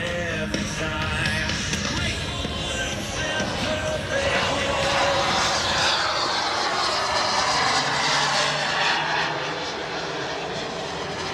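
A model aircraft fitted with smoke and wingtip pyrotechnics flies past at an airshow, its loud engine roaring steadily and shifting in pitch as it passes, dominating throughout and easing slightly near the end.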